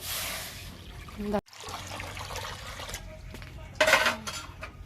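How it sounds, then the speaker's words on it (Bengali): Water poured into a pot of lentils for a masoor dal with pointed gourd, a trickling pour with clinks of pots and utensils, lighter splashes near the end, and a voice talking underneath. "এবার দিয়ে দিচ্ছি জল"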